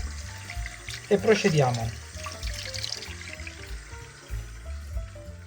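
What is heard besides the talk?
anchovies being washed under running water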